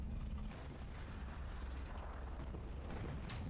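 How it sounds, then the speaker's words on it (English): Incoming artillery shells explode in a video game as a dense, continuous low rumble and roar. The heavy booming wash has no distinct gaps and sits at moderate loudness. "Oh, we got shells coming in."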